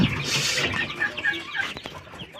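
Soft, rapid clucking and cheeping from several young chickens nearby, a busy jumble of small calls with a faint rustle.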